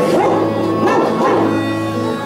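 A voice imitates a dog barking, a few sung woof-like calls in a row, loud and close, over a musical backing.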